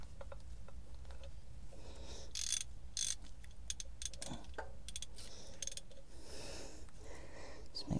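A ratchet strap is tightened with webbing during an oil and filter change on a Mazda Bongo van, giving faint, close, irregular ratcheting clicks and mechanical rattles in a quiet setting with no talk.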